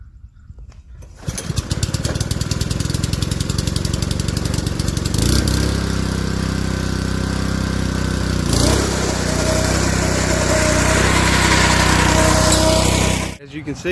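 A lawn mower cuts grass with a loud, steady engine drone that starts abruptly, runs close and continuous for about twelve seconds with a slight shift in load partway through, then cuts off.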